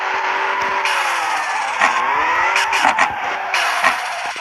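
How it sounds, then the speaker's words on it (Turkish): Car drifting in the Assetto racing video game, with a continuous revving engine whine rising and falling and bursts of tyre squeal as the car slides, loud and close with no one talking. "Kaza değil de drifti yanlış attım."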